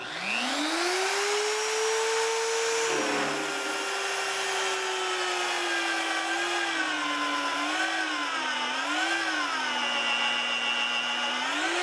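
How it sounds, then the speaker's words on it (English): A Vevor 1400W magnetic drill runs a 27mm annular cutter at high speed through steel, a loud, steady motor whine that rises to a peak and then wavers and dips under load, with no talking. "here I am back at the 27mm cutter again, and we're going to try and cut at high speed"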